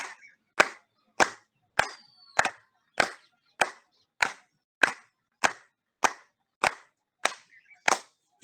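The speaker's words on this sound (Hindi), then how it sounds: "अब ताली बजा लेते हैं पुनः अपने लाने और सबके लाने" Hands clap in a slow, even rhythm during a yoga session, about fourteen sharp, loud claps spaced roughly half a second apart, with quiet pauses between them and no talk.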